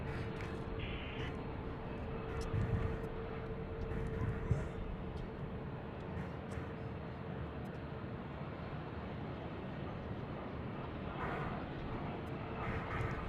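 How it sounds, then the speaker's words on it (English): A Boeing 777 airliner arriving at Charlotte Douglas International Airport gives a steady, distant jet engine rumble that holds throughout. "There's a 777."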